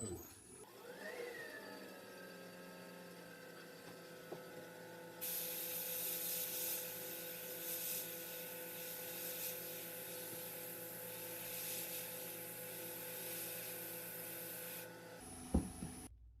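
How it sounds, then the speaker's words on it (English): A woodturning lathe runs steadily with a faint, even motor hum and whine, and a soft hissing spray of colour joins it for a long stretch before stopping. "Now when I do this, I have the lathe running."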